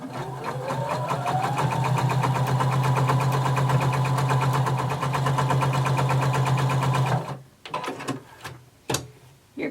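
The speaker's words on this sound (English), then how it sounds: "we're going to sew a stay stitching line that's 1/2 inch away from the edge of your" A sewing machine runs a stay stitching line along the edge of fabric with a steady, fast mechanical whir for several seconds, then stops, followed by a few clunks and clicks.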